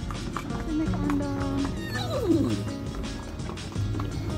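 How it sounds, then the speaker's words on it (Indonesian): Horse-drawn andong carriage at the Taman Legenda dinosaur park in TMII, hooves clip-clopping steadily amid busy outdoor park noise and voices, with a brief whinny-like sweep in the middle. "kita juga bisa lo jalan-jalan pakai andong, teman-teman, yang pastinya ditarik oleh kuda lo"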